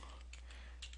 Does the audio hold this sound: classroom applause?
no